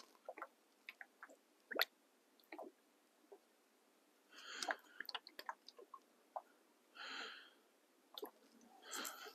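Wet squishing and gurgling bursts as a Jeep Wrangler TJ radiator hose is squeezed to push air out of the coolant, in irregular clusters, with soft drips and bubbly squelches between quieter pauses.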